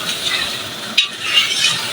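A spoon stirs arbi (taro root) curry in a pan with a soft scraping sizzle, one sharp clink of metal against the pan partway through, as tamarind water is added.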